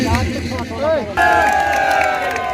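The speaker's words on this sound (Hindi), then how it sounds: "जोरदार तालियां" Crowd at an outdoor kabaddi match between two village clubs cheers and applauds loudly, with an announcer's voice over the noise and a sustained tonal whine joining midway.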